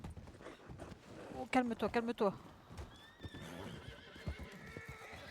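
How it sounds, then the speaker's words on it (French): A horse whinnies loudly in a rising, shaky neigh, with hooves clopping and shuffling nearby while someone speaks soothingly over it. "Oh, pardon, désolé, c'est mon cheval."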